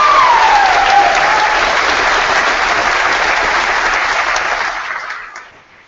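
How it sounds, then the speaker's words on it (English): Dense, loud applause from a large convocation audience, with a steady wash of clapping that holds for about five seconds and then fades away at the end. "What about giving another round of applause to the Dean for reading all of the names?"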